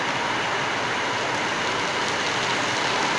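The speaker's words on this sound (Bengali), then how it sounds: "ভালোই জোরে শুরু হলো বৃষ্টিটা।" Heavy rain pours down outside as a steady, dense, unbroken hiss of drops with no pauses or voices.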